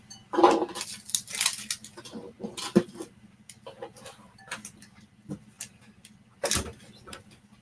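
Food being cut up in a bowl: scattered clinks and scrapes of a utensil against the dish, with a few louder knocks, sounding close and irregular against a quiet background.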